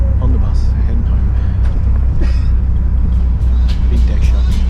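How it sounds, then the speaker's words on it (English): A steady low engine rumble and road drone fill the inside of a moving city bus, with faint rattles and brief hisses over the continuous hum. "On the bus, heading home."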